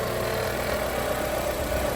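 A Honda CRX engine idles steadily at close range, a constant even drone with a low hum and no revving.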